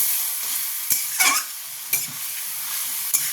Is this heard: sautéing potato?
yes